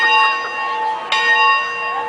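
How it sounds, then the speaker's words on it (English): A church bell at Braywood, hung in an old bell thought to date from 1857, rings out loud and sustained with a long shimmering hum, struck once more partway through. "I think it's a bit dodgy, that bell, to be fair."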